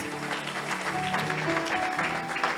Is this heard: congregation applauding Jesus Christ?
yes